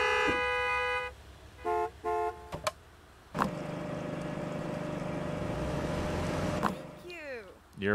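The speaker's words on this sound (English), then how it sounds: "Honk, honk, honk." A car horn in the Gas Station Simulator game honks in several short bursts, then a steady engine-like drone runs for a few seconds before a sweeping whine closes it out.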